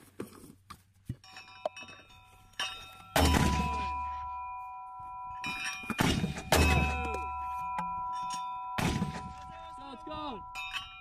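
81mm mortars firing during a US Marines live fire exercise at Pendleton, three loud booming launches with ringing metallic tails spaced a few seconds apart, plus smaller clanks and brief voices.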